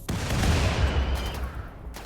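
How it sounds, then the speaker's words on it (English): A loud, dense burst of explosions in the RimWorld video game, a sustained rumbling blast with crackling gunfire-like bursts lasting about two seconds, with no talking. "I know you guys want to see the explosions,"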